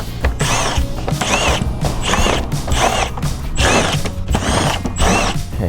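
A ratchet wrench loosens the outer 10 mm bolts holding a part to the bumper of a GR Corolla, producing loud, continuous rhythmic clicking in repeated strokes with a steady pace throughout.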